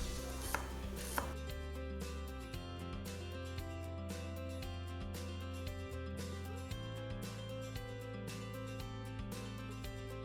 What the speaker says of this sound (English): Peel them and slice them thinly.